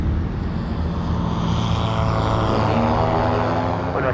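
A light propeller aircraft idles and rolls while lining up on the runway for takeoff, its engine a loud, steady drone with a low throbbing hum that holds close and constant throughout.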